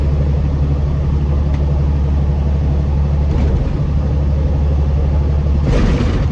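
A truck with a 10-speed manual transmission rumbles steadily from inside the cab, its low engine drone constant with a slight shift in tone near the end as a gear change comes through.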